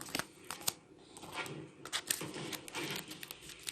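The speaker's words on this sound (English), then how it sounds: "I'll give them a quick shuffle." Game counters or cards from a tabletop wargame are quickly shuffled by hand, producing close, irregular clicks and soft rustling bursts with short pauses between them.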